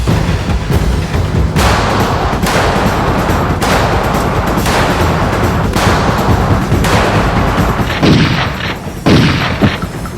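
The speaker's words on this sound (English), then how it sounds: "This is my my Kimber 45 cal." A Kimber .45 caliber pistol fired at a shooting range, with loud, sharp reports repeating at irregular intervals close to the microphone over a dense, noisy background.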